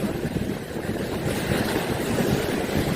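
Rough, roaring sea surf on a beach on Egypt's north coast churns steadily with gusty wind noise over the microphone, a dense wash of crashing water and no voices.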